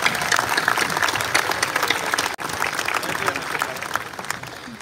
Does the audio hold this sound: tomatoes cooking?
no